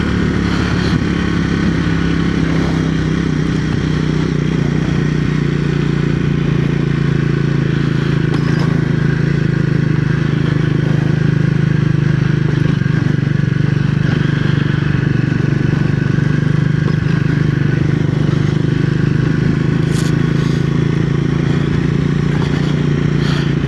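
A 2025 Triumph Speed 400 motorcycle is being ridden, its engine droning steadily and loudly up close for the whole stretch, with the note shifting as gears change down from third to second.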